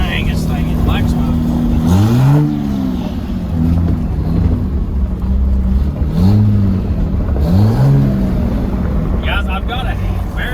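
Straight-piped Coronado race truck with a 6.7 stroker diesel engine revving, loud deep exhaust rumble with several sharp rising and falling revs, close by, with people talking over it.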